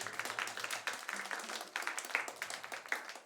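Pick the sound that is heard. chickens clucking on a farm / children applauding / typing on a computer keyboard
children applauding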